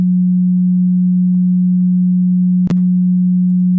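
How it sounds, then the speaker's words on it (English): A steady 181 Hz sine tone from a digital synthesizer's oscillator hums loud and unbroken, with one brief click partway through. "that sound is 181 hertz."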